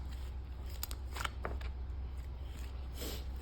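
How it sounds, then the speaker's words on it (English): Big homemade slime is cracked in a quiet room, giving a handful of faint, sharp pops and crackles scattered through the stretch. "And I like it because it's really good for cracking."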